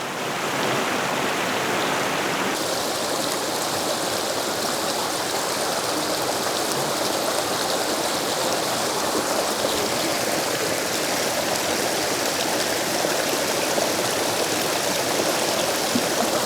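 River stream rushing through a canyon, a loud, continuous broadband wash of flowing water heard up close with no voices.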